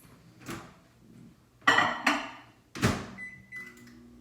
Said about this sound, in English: I'm gonna stick this in the microwave for 30 seconds.